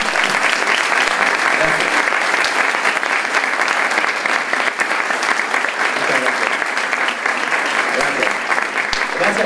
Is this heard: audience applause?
yes